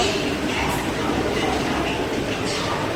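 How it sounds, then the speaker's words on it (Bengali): A train pulls into Arambagh station with a continuous loud, dense rumble of wheels and carriages close by, carrying on steadily with no clear speech over it. "ট্রেন ঢুকে গেছে আমাদের"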